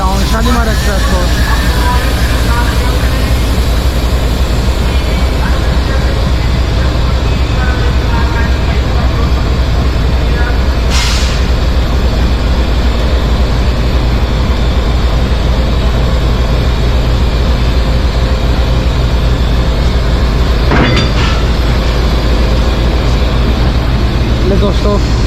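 Pakistan Railways locomotive GEO 4912 backing onto the Shalimar Express for coupling, a steady low diesel rumble throughout with two sharp metallic clanks, one midway and one near the end, and background voices at times.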